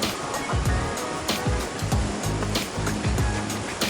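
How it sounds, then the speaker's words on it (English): Water pours steadily at Tibumana waterfall in Bali, a dense continuous rush heard up close and fairly loud, with faint low thumps beneath and no voices. "a nice spot to just stand for a moment and enjoy the sound of the water"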